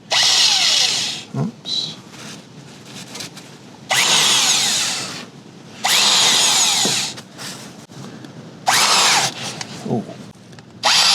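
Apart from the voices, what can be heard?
power drill with big drill bit drilling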